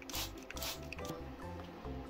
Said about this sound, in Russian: Теперь снова обильно смачиваю семена водой